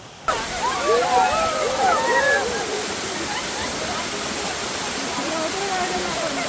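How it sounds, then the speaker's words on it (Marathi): Small roadside waterfall along the Madhe Ghat road near Pune pours in a steady, close broadband rush, with birdsong chirping over it early on. "वाटेत ठिकठिकाणी असे छोटे छोटे धबधबे आपल्याला पाहायला मिळतात"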